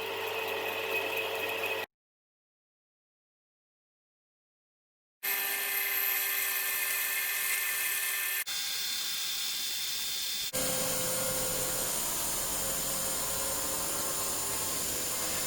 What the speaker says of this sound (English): It's easier just to bore them out like this and just chuck some new ones in.